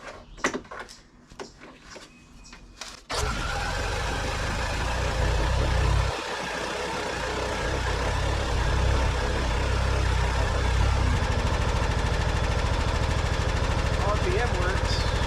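A small engine fires after some clattering and keeps running loudly and steadily nearby. The engine is checked with a timing light on a workbench.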